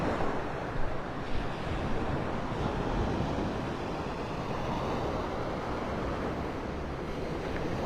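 Ocean surf rolling onto the beach at Delnor-Wiggins in North Naples, Florida: a steady, soft wash of breaking waves mixed with gusty wind noise, with no one talking.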